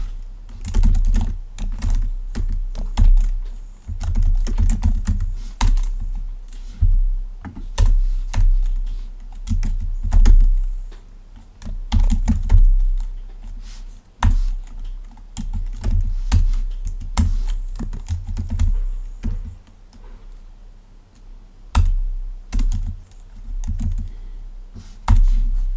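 Close, steady typing on a computer keyboard fills the stretch, key clicks coming in quick runs separated by brief pauses, with no voices.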